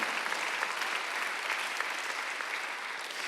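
A congregation at a Sunday worship service claps together, a steady, full wash of applause from many people at an even level throughout.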